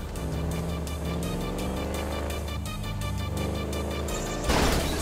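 A motorbike engine in the video game GTA 5 drones loudly and steadily while revving, with a brief louder surge near the end and no talk over it.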